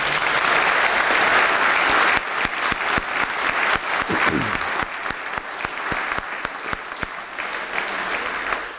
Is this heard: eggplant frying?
no